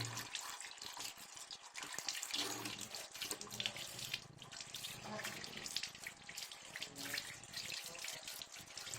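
Tap water running steadily over a sprayer trigger filter being rinsed clean, a continuous close splashing rush with small shifts as the part is turned under the stream.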